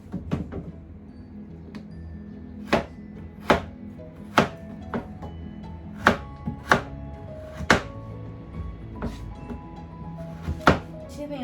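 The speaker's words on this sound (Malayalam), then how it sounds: "വെള്ളത്തിലാക്കി നമുക്ക് അരിയാം." A knife chops carrots and other washed vegetables on a cutting board, about a dozen crisp, separate thunks at an uneven pace, close up, with a soft background hum between strokes.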